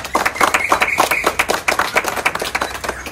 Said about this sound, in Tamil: அனைவரும் கர ஒலி எழுப்பி ஆரவாரம்